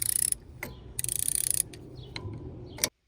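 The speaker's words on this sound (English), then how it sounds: "the ratcheting mechanism still works nicely" A HAISSTRONICA ratcheting wrench with interchangeable heads clicking through its mechanism, bursts of rapid fine ticks followed by a few separate sharp clicks, close and crisp with no talk.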